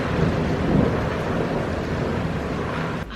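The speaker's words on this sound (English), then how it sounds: "I love the rain in the background." Steady rain with rumbling thunder fills the background, a continuous dense wash of rainfall and low rolls that stays even throughout and ends with a brief dip.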